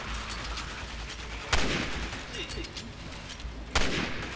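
Two sharp gunshots ring out in Resident Evil 6, about two seconds apart, each with a short decaying tail over quiet game ambience.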